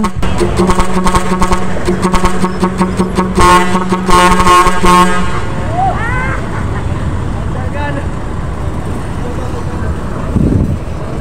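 Vehicle horns from gathered motorcycle and truck vloggers blare in loud repeated honks for about five seconds, some sustained and some rhythmic, over crowd chatter and traffic. After they stop, voices and street noise carry on.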